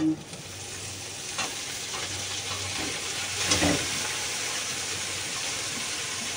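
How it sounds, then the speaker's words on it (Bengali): Leafy greens tipped into a pan of fried onions, hissing with a steady sizzle and scraped stirring strokes close by, a brief louder clatter midway, no talk. "পেঁয়াজটা দেখো ভাজা ভাজা হয়ে গেছে, এখন আমি এই শাকটাকে দিয়ে দেবো।"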